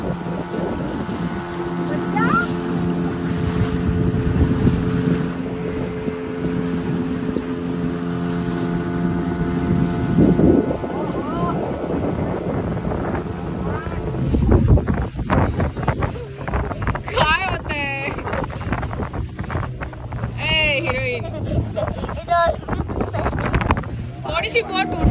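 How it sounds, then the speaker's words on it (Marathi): Motorboat ride at sea off Malvan, with a steady engine drone, wind buffeting the microphone and water slapping the hull throughout, while people talk and exclaim over it. "थोडीशी बोट उडणार आता, घाबरायचं नाही."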